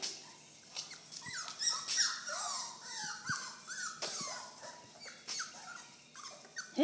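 Boykin Spaniel puppies whimpering and whining, a string of high, wavering cries with occasional small yelps and growls, close by and alone, varying in loudness across the stretch.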